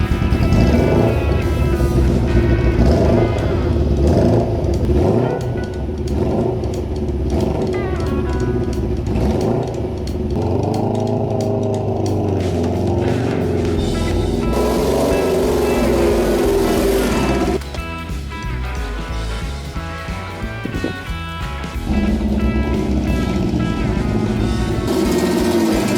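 A Suzuki GS550 rat-bike motorcycle under restoration is revved in a garden and then ridden briefly, its engine note rising and falling in repeated sweeps, loud and close, with a short dip partway through.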